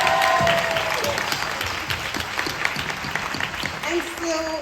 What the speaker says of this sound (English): give it a round of applause for that.